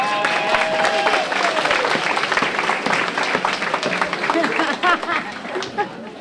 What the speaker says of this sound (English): That's us clapping like a horse would, if you wonder what we're doing.